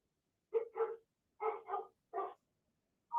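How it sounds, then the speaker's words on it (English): A dog barks in the background in five quick, fairly loud yaps, two pairs followed by a single bark, with silence in between. "We do have a dog barking in the background."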